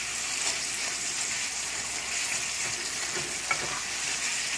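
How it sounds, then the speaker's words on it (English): Vegetables with pulverized onion warm in a hot pan in a tiny home kitchen, giving off a steady, even sizzle and crackle that runs unbroken, close and fairly loud, with no talking. "So it's just warming up the vegetables."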